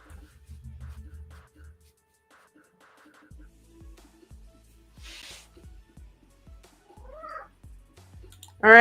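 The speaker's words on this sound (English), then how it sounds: "Meow." A cat meows intermittently between stretches of quiet indoor sound, a few short cries in the later part and a louder one at the very end.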